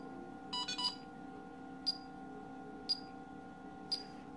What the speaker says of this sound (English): It's beeping, it's fine.